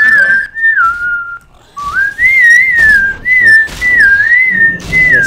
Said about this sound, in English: Good whistle.